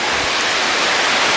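A waterfall roars in a steady broadband rush, heard near a suspension bridge at a Korean scenic site, loud and continuous with no talk.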